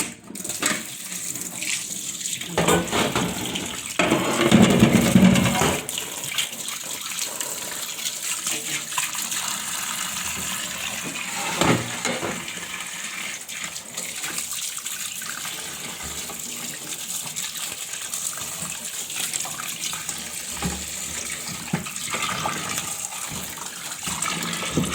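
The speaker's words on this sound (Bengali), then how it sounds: "কলটা ছাইড়া নিই।" Tap water runs steadily from a faucet for fruit washing, a continuous broadband gush with a brief louder surge as the flow shifts, no talk over it.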